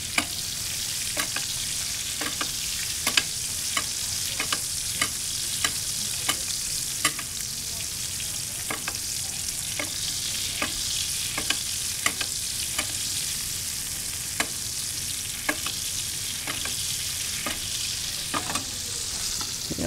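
Garlic frying in butter in a pan alongside a searing steak gives a steady, moderately loud sizzle, punctuated by regular sharp clicks of utensil taps or spattering throughout.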